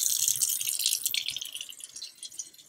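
A cup of water poured into a saucepan while pickles are being made, a bright splashing, rattling trickle that starts strong and tapers over about three seconds, close and alone.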